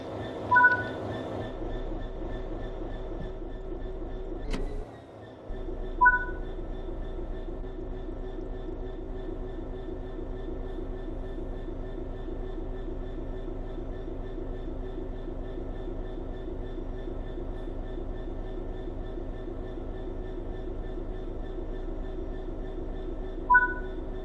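A simulated train from Train Sim World 3 running steadily, with a continuous low rumble and hum, a brief clunk near five seconds, and faint periodic chimes, no talk.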